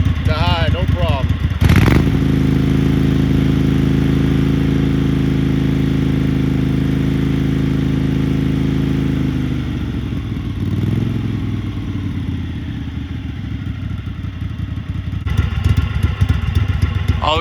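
A 1998 Craftsman GT garden tractor engine rises from idle to a loud, steady high-rpm drone that holds for several seconds, then drops back to a lumpy idle with a mechanical clatter, while someone talks over it.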